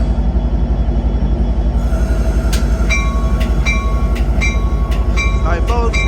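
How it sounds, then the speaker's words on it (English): Amtrak Capital Corridor train 547, led by F59PHI locomotive 2004, arrives at Oakland's Jack London Square with a loud, continuous rail rumble and a sequence of sharp horn or bell tones in the second half. "Alright folks, Amtrak 547 Capital Corridor train."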